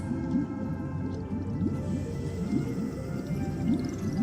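Electra, a Sea Siren in Honkai Star Rail, calls out in a series of eerie whale-like sweeping cries, repeated every half second or so over a deep underwater drone, with a final rising and falling chime near the end.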